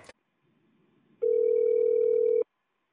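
A phone call placed to LeTV customer service: a moment of near silence, then one long, steady ringback tone that stops abruptly, with no voices.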